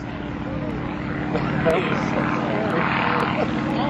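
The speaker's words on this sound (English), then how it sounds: "Smoke is pouring from the exhaust stack of that aircraft as he comes in the aerobatic area." The steady propeller engine drone of an aerobatic stunt plane at a barnstorming airshow holds a constant loud tone throughout, with an announcer talking over it.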